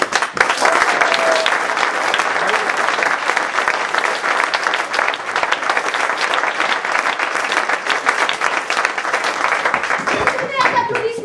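Theatre audience applauding after a stage play, a dense steady wash of many hands clapping for the whole stretch, with a voice cutting in briefly near the end.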